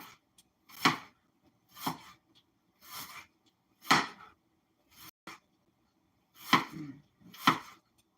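A knife slices half an onion as thinly as possible on a cutting board for a stir-fry lo mein, with about eight crisp, separate chops at an uneven, unhurried pace, close and with no talking.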